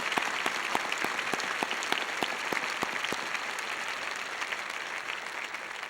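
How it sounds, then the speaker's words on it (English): Steady applause from a commencement audience at a UNC-Chapel Hill December ceremony, a dense continuous patter of many hands with a few sharper claps standing out, fairly distant and without speech. "Dean Mattson, please join me in applauding the achievements of these students"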